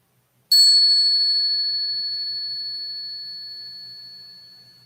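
A single temple bell struck for the Great Bell Chant, a clear ringing strike that sustains and slowly fades with a pure lingering tone in near silence.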